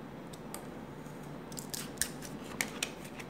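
Scissors snip through shoe pattern material in a quiet workshop, a few soft crisp cuts, faint and close with no talking.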